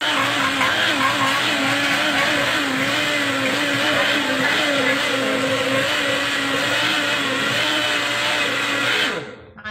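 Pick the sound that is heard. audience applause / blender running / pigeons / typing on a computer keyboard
blender running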